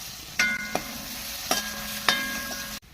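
Onion, crushed chili and curry leaves fry in oil with a close, continuous sizzle, broken by a few sharp scraping stirs of a spatula against the pan, then cutting off abruptly.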